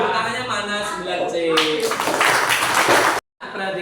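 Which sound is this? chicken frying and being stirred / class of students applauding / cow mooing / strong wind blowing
class of students applauding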